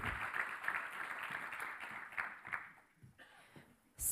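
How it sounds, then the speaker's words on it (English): An audience at a science park event applauds in a moderate burst that thins out and fades toward the end, with a brief louder sound at the close. "big applause for Louise Felldin."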